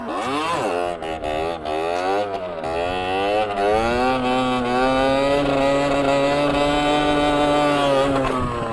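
A stock 50cc motorcycle engine revving hard during wheelies, its buzzing tone climbing and dipping in the first seconds, then holding a steady high-pitched drone, loud and close.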